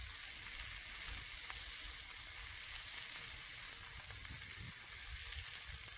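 Pancake-style batter sizzles on a very hot griddle, a faint, steady crackling hiss with no voices.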